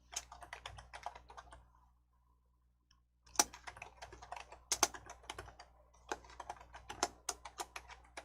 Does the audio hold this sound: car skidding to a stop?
no